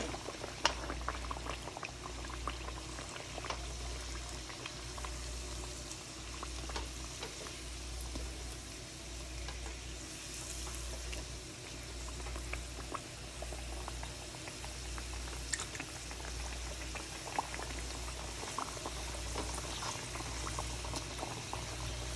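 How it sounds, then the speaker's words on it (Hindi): Potato samosas deep fry in hot oil, a continuous dense bubbling sizzle that holds steady and close throughout with no voices over it. "ऑयल जो है हमारा हो गया है गरम, अब हम इसमें डालते हैं समोसे।"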